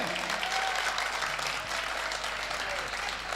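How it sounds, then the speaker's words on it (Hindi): A crowd at a Hindi poetry recital applauds, a broad, even roar of clapping that runs the whole time, heard somewhat distant and steady without speech over it. "अरे तुम्हारी तालियां कमजोर है पीछे"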